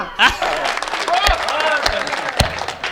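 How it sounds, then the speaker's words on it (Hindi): Applause from an audience at a comic poetry recital, a lively burst of clapping mixed with cheering voices and a few sharp louder claps. "तालियां"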